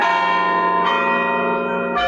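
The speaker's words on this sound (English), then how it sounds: "The church bells rang out Sunday morning in 5 Points." A church bell in the Five Points area rings out on a Sunday morning with a long, sustained tone that hangs in the air, then is struck again near the end, clear and resonant.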